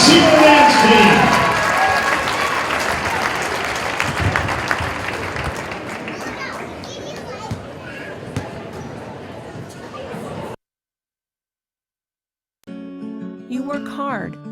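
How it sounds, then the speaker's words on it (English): Loud crowd applause and cheering in a high school gym at a boys basketball game, honoring a dance team, gradually settling over about ten seconds and then cutting to silence before unrelated sound begins. "a huge round of applause for your Mahomet-Seymour dance team"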